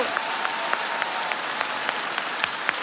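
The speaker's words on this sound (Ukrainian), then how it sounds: "Ці всі оплески для тебе" A theatre audience at a Liga Smikhu comedy show applauds for Katya's birthday: dense, loud, continuous clapping filling the hall, steady throughout with crisp individual claps popping out of the roar.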